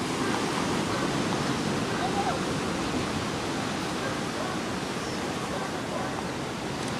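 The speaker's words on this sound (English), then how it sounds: "Been sitting at this beach for a couple hours here." Steady wash of surf on a beach near Hilo, a broad continuous roar of waves with little variation throughout, close and fairly loud.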